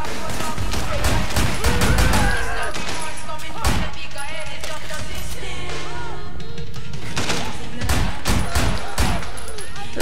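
Gunfire in the open-world action game Sleeping Dogs: bursts of loud, sharp shots come in rapid clusters with short pauses between them, and someone talks over the shooting.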